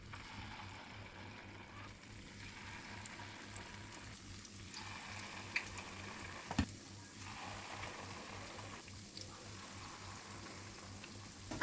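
Malpua batter deep frying in hot ghee, a soft, continuous bubbling sizzle held close and low in level, with occasional faint clicks and a sharper knock at the very end, with no talking.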